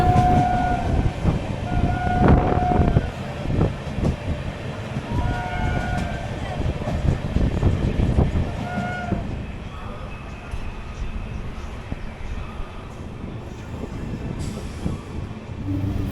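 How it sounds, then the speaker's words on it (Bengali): A new LHB-rake Kolkata–Sairang Express picks up speed after leaving Krishnanagar, with continuous wheel rumble and clatter, a few horn tones and some squeal early on, while a voice talks over the running noise. "কৃষ্ণনগর ছেড়ে কিন্তু ট্রেন তার নিজস্ব স্পিড তুলতে শুরু করেছে"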